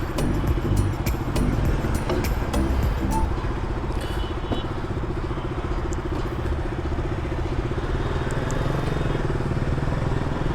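Motorcycle ridden on an early-morning road trip toward Ekvira Aai Temple in Chunabhatti, its engine droning steadily and loudly close by with wind rush and light rattling throughout, no talking.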